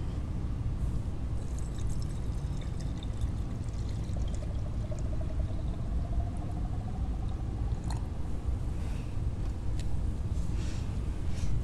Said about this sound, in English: Now that we have our borax in here, we're going to pour in